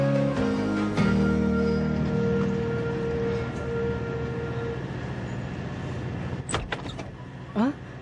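Rumbling train noise from an anime, with a low droning hum, a steady tonal whine fading out, and a few sharp squeals and clunks near the end.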